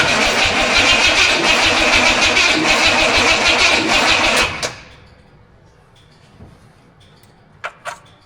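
A Studebaker car engine cranks and runs loudly and steadily during a first start attempt, then cuts out abruptly, leaving near-quiet with a few faint clicks and knocks.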